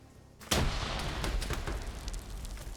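A grenade goes off in Arma 3 during a Cold War-era PvP match. One sharp, loud blast breaks a quiet background and leaves a long rumbling tail with scattered crackles. No voices are heard.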